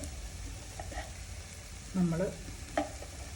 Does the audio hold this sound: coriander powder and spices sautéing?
yes